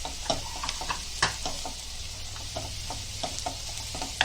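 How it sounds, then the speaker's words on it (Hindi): Turmeric roasting and tomatoes being added to a pan for okra bharta: a soft sizzle under scattered stirring clicks and scrapes, quiet and close, with no talking. "हल्दी थोड़ी भुनेंगे और टमाटर डालेंगे।"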